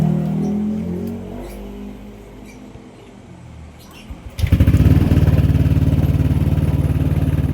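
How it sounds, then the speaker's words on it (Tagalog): A Yamaha Nmax 155 V2 scooter engine fires up after a few seconds of quiet background noise, then settles into a steady, loud, close-up idle with an even throbbing pulse. "nabura ang check engine at naging normal ang idle."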